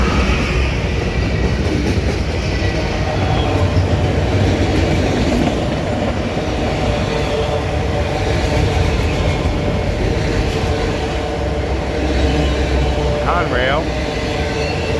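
A CSX autorack freight train rolls west along the old B&O mainline, its steady rumble and wheel clatter continuous and loud throughout, with a brief higher squeal near the end.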